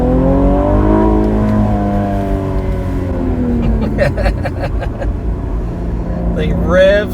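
Cadillac ATS-V engine revving hard under acceleration, pitch climbing steadily through the gears with a brief shift dip, loud and close from inside the cabin, ending in a sharp high rev.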